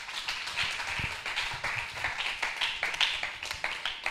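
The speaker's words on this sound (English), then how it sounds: "clap your hands, give God praise tonight" A church congregation clapping their hands in praise, a fairly steady patter of many claps heard at a moderate distance, with no voices standing out.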